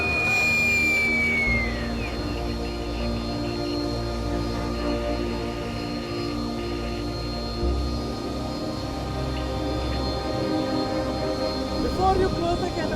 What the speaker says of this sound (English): a Sea Harrier jet